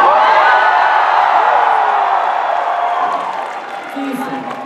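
A convention crowd at Bronycon 2015 cheers and whoops in a loud, dense roar of many voices that holds steady and then eases slightly near the end.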